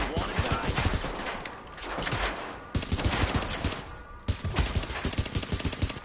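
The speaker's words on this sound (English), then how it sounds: "Keep firing at us" Dense, overlapping bursts of gunfire in Tom Clancy's The Division, a shooter game, continuing steadily in loud rapid volleys with brief gaps between them.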